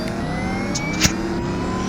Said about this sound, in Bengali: তো একবারই স্টার্ট করে দিই এটা